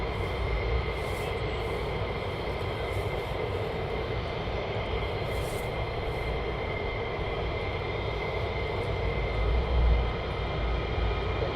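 F-15E fighter jets of the 492nd Fighter Squadron at RAF Lakenheath produce a steady, loud engine roar throughout, a broad continuous rumble with a slight swell near the end and no voices.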